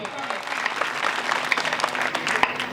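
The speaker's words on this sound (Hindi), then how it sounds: "तो एक बार और तालियां।" Audience applause at a Hindi poetry reading, a dense steady patter of many hands clapping close by, with a few sharper claps standing out near the end.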